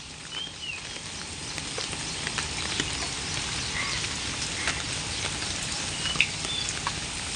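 Heavy monsoon rain falls steadily in a dense, even patter with a few sharper drops. It is fairly close and continuous, with no voices.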